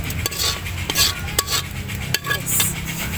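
A spoon stirs arroz caldo in a pot, giving repeated close clinks and scrapes against the metal at an irregular rhythm over a soft simmering bubble.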